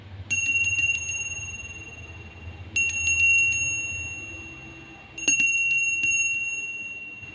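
A bell rings out three times in short bursts of several bright, clanging strokes, each ringing on and fading before the next, clear and fairly close over a quiet background, marking the start of a round.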